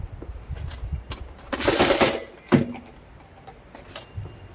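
A Nerf Mega XL Double Crusher blaster fires darts in a quick handful of loud, sharp pops and bursts, some clustered together, with handling clatter and a gap between shots.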